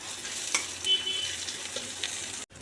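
Chopped onions with a little salt and sugar frying in a pan, giving a soft, continuous sizzle with faint stirring scrapes, fairly quiet and close, before a brief drop at the end.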